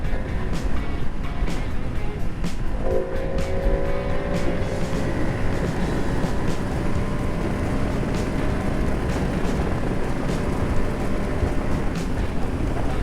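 A 2026 Ducati Monster V2 naked motorcycle ridden at high speed on the road, with steady, loud wind roar and engine drone throughout and a brief rising engine tone partway through.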